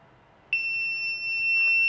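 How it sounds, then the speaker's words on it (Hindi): The buzzer of a homemade rain alarm circuit, triggered by water drops shorting its sensor, cuts in suddenly after a quiet moment. It then holds a loud, steady, high-pitched electronic tone. "और मेरा बजर और एलईडी ऑन हो जाएगी।"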